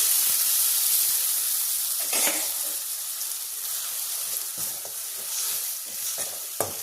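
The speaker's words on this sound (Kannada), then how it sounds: "ಇವಾಗ ಇದರಲ್ಲಿ ನಾನು 1 ಸ್ಪೂನಷ್ಟು ಸಾಂಬಾರು ಪೌಡರ್ನ ತೊಗೊಂಡು ನೀರಲ್ಲಿ ಕಲಿಸ್ಕೊಂಡು ಇಟ್ಕೊಂಡಿದ್ದೀನಿ. ಅದನ್ನು ಮಿಕ್ಸ್ ಮಾಡ್ಕೊತಾ ಇದ್ದೀನಿ." Fried onions with a sambar powder and water paste sizzle and hiss in a pan while being stirred, the frying steady and close with scraping spoon strokes breaking through now and then.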